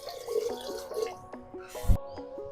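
Water is poured into a pot of rice for biryani. It falls as gurgling, dripping splashes with a short louder gush near the end, close and alone.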